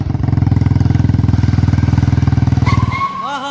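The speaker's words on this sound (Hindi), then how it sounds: "वाह, मजा आ गया बाइक चलाने में।" A Royal Enfield Bullet motorcycle thumps past close by, its deep, steady single-cylinder pulse loud and even for about three seconds before cutting off, followed by a faint whistling sound.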